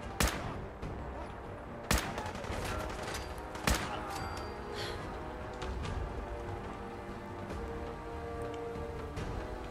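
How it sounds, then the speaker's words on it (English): Gunfire in the video game Fallout 4: three sharp, loud shots ring out about two seconds apart over a constant rumbling battle din, with no talking. "I see where you're shooting me from"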